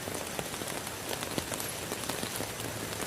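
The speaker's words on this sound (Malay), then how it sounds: "Lebat nih hujannya teman-teman nih." Heavy rain pours steadily at a jungle campsite near rice fields, a dense, constant hiss of drops drumming on surfaces close by, with no talk.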